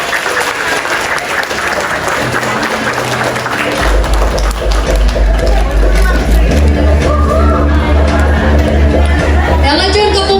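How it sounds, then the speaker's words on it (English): Guests at the 2021 Pink Tea Party for breast cancer in Majuro applaud Miss Marshall Islands with loud, sustained clapping and cheering, crowd chatter mixed in and a low musical drone rising partway through. "Can we give her a round of applause?"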